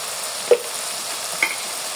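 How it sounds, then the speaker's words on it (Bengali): Spice masala for chicken roast being fried and stirred in a pan, a low steady sizzle with two brief clinks of a spoon against the pan. "আবারও মশলাটাকে ভালো করে কষাতে হবে।"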